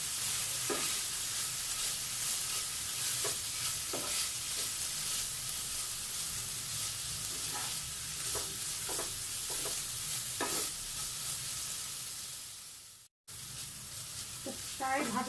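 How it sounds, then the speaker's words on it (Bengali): Bitter gourd and potato frying in a pan, with a steady, close sizzle and regular scraping stirs repeating throughout. It cuts out briefly near the end and then resumes. "করলাটা দিয়ে দিচ্ছি, আলুটাও দিয়ে দিচ্ছি। ভালোভাবে মিশিয়ে নিব।"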